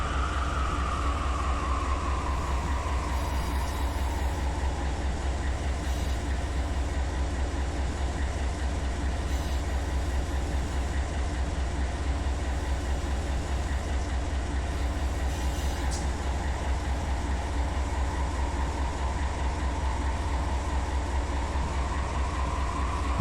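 A BNSF freight train runs at around 70 mph across the desert in the Run 8 Train Simulator game, a constant low rumble and engine drone with a slowly sliding whine, and no talk.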